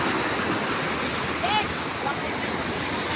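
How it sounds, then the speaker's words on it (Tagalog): Strong surf roars continuously at a beach in Lobo, Batangas, a dense wash of breaking waves with steady wind noise, loud and unbroken throughout. "ang lakas ng alon guys"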